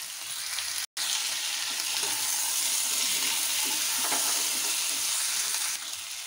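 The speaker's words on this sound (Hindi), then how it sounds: "अब हम इसमें अपनी मटर डाल देते हैं।" Peas and soft-cooked tomatoes frying in a pan for an aloo gobi matar sabji, a steady close sizzle with stirring clatter throughout and one brief dropout near the start.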